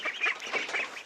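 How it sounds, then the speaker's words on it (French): Farm ducks quack and honk in a busy, overlapping cluster, moderately close and fairly quiet, with no talking. "Là on a les canards."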